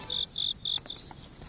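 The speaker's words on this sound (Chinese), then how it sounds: "就传来一阵高亢的蛐蛐声。" Loud, shrill cricket chirps in a damp, overgrown garden, three long trills in steady rhythm followed by a short fourth burst, close and clear with no voices.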